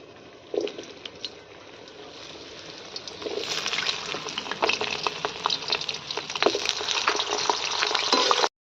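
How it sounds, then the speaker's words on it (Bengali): Potato pieces fry in oil for shukto, a crackling sizzle that starts soft with a few bumps, then swells into a loud, busy spitting hiss with scattered pops before cutting off abruptly. "তারপরে এক এক করে সব সবজিগুলো ভেজে নেব, শুক্তো সবজিগুলো। আলুটা ভেজে নিলাম।"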